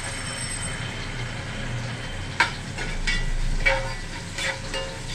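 Garlic sautéing in oil for a home-cooked soraikkai kootu: a steady low sizzle with occasional sharper crackles and pops, close and fairly quiet, with no talking.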